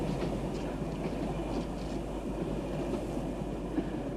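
Train running on rails, heard as a steady, dense low rumble with faint rhythmic clatter throughout, moderately loud and continuous with no talk over it.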